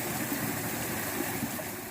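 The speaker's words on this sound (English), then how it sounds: "And I'm coming up to the main waterfall." Water rushes steadily at Tarra Falls, a continuous broad hiss with a low churning undertone, moderately loud and unbroken, heard from an approach along the trail with no voices.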